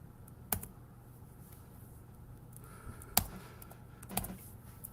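Keyboard shortcut keys on a computer pressed a few times, giving sparse, sharp clicks with long quiet gaps, close but faint.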